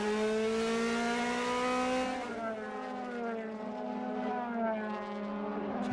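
A DTM race car heard onboard with Jamie Green at Lausitzring in 2011 screams at high revs, its engine note rising steadily, dropping with a gear change, then climbing again, loud and close.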